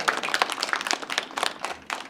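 Clapping from an audience at a disability rights lecture during a human rights film festival in Incheon, a lively, uneven patter of individual hands with distinct bursts and small swells, fairly close.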